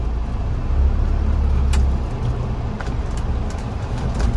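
A 2019 Mahindra Thar SUV driving in 2H mode, with a steady low engine and road rumble close to the cabin and a slight swell early on, no talk.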